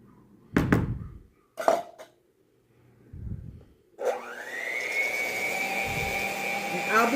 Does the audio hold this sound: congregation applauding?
no